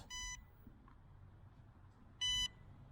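An AOSENMA CG028 GPS brushless drone gives two short, high electronic warning beeps about two seconds apart against a quiet background hum.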